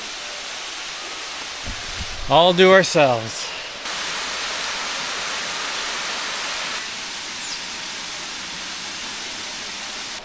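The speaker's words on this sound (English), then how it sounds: "There's our waterfall." Jungle waterfall in Puerto Rico roars as a steady, even wash of broadband rushing water throughout, with a brief spoken voice near the start.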